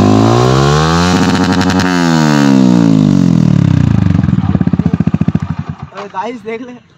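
A modified Yamaha R15 V3 sport bike's aftermarket exhaust runs close and loud without throttle, a throbbing engine note that sinks in pitch, slows into distinct chugging pulses, then ends with a few sputtering pops.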